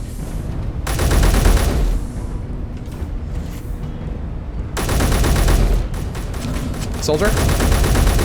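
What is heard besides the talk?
gunfire from a weapon in the video game Space Engineers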